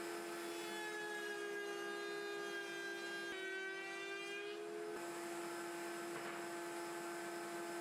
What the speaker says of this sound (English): so I'll use my other larger router table